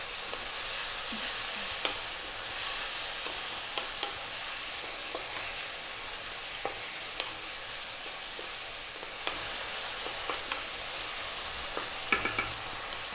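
Noodles with soy sauce stir-frying over high heat, a steady sizzle with scattered sharp clicks and taps from stirring, moderately close and alone without talk.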